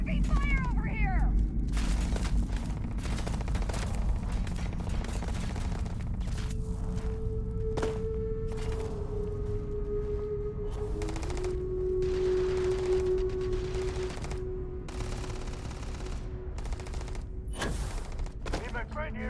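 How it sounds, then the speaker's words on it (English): Heavy gunfire in the video game Starfield, with rapid volleys and sharp shots crackling through a loud combat mix that also carries sustained tonal effects and voices. "Heavy fire over here!"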